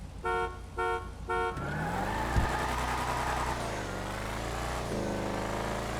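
A Bravado Gauntlet STX muscle car, styled after a Dodge Challenger, in GTA 5 sounds three short horn-like toots, then its engine roars loudly and continuously as it launches from a standstill, the pitch climbing and dropping with each gear change.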